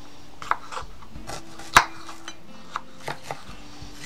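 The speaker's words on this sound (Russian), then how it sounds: "Нарезаем перчик." A knife chops a colorful bell pepper on a board while cooking over an outdoor campfire, with a few scattered, irregular taps and one sharper, louder strike, heard close and without talk.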